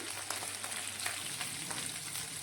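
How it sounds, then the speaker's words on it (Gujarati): Vegetable patties for a cheese frankie fry in hot oil until crisp, giving a dense, continuous crackling sizzle with small pops, close and steady throughout. "અને થોડી ક્રિસ્પી થાય ને ત્યાં સુધી તળવા દેવાની"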